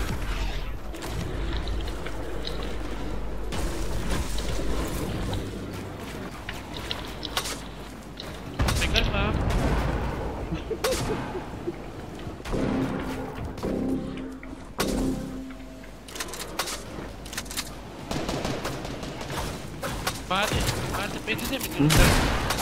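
A shotgun firing in Fortnite, repeated loud booming blasts amid a dense mix of other gunfire and game effects, with a voice talking throughout.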